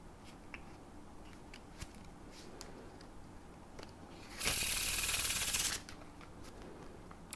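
A deck of playing cards given a faro shuffle: one crisp, dense burst of riffling lasting about a second, close and clear against a quiet room.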